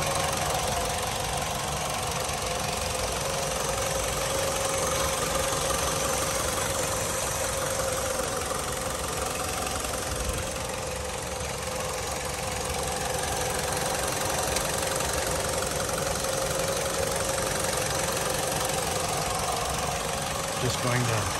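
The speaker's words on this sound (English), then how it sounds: "Just going to hover here for a moment so you can listen to this engine run." A 2014 Mitsubishi Lancer ES engine idles at close range with a steady, even mechanical rumble and a faint tonal whine running throughout.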